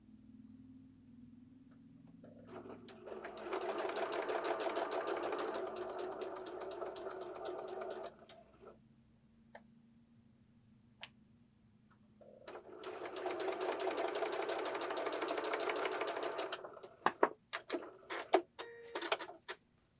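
A sewing machine stitching the seams of a scrappy quilt block, with two long steady runs of rapid mechanical whirring separated by a pause and followed by a few clicks and handling sounds, close and alone.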